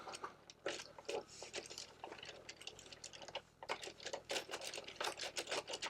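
Turning the small side crank on a LEGO Pac-Man arcade set (10323) gives a quiet, rapid run of plastic clicks and ticks from the gears, in uneven bursts with a short pause midway.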